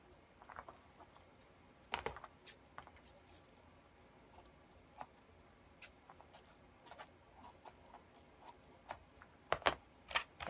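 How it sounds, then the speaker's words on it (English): Close, light crinkles, taps and rustles of tape being pressed down onto a paper sewing pattern, irregular bursts with a sharper snap near the start and end, no talking. "Now I'm just taping this down just because this is part of my regular pattern."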